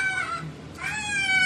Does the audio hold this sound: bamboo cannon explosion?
no